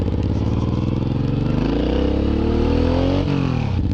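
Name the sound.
Suzuki M109R motorcycle cruising at 25 mph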